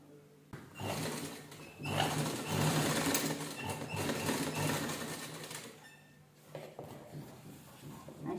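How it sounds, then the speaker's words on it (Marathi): A sewing machine stitches binding tape onto a ready-made mat seat, a fast, steady mechanical whir in long runs with short pauses between them, close and fairly quiet. "आणि शिलाई लॉक करून घ्यायची"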